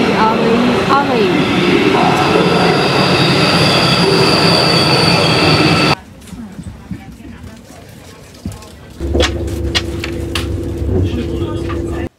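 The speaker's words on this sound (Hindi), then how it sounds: "और ट्रेन इज अराइविंग, आ गई आ गई आ गई।" A train pulls into a station in Germany, its rumble and squealing wheels loud and near, then quieter platform ambience before a steady hum as it halts; a voice speaks at times.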